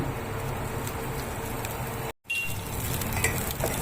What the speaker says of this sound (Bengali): দেখুন এরকম খুব সুন্দর করে এখন ভাজছি।